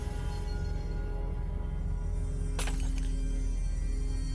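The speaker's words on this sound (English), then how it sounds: "A sound of glass breaking in the hall" Glass shatters in a hallway, a sudden bright crash at about two and a half seconds over a steady low background hum, with a short tail of falling fragments afterward.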